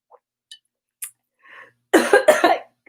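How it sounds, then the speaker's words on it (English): A person coughs after choking on a sip of water: a few small throat sounds first, then two or three loud, close, harsh coughs in quick succession. "I choked."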